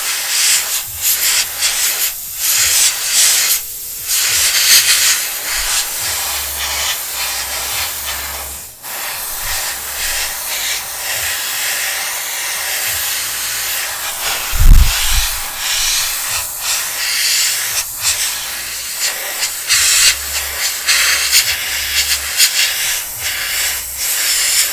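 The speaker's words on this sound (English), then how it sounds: "This is relatively noisy just because of air getting into all the small slots and places, and it's got a whistling basically" Compressed air hisses steadily through the small lines of a 1/14 scale Tamiya Volvo FH12 RC truck kit, with a broad continuous rushing and a faint whistle, near and fairly loud, with occasional low thumps and no talking.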